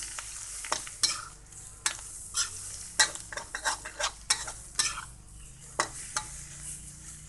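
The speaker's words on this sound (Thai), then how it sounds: "ก็จะนำผักชายาที่เราแช่ไว้เมื่อสักครู่นะคะ แช่น้ำเย็นไว้นะคะลงมาผัดได้เลยค่ะ" Soaked chaya leaves are stir-fried in a pan with a soft steady sizzle, broken by repeated sharp scrapes and clinks of a spatula against the pan in an irregular rhythm. The sounds are close and moderately quiet, with no talking.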